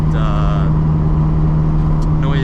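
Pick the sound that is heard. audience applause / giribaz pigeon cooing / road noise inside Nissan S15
road noise inside Nissan S15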